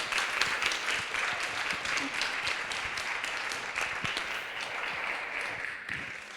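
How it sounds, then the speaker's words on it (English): Conference audience applauding a keynote speaker at a festival, a dense, steady wash of many hands clapping at moderate volume throughout, with faint voices underneath. "a big applause to her, please"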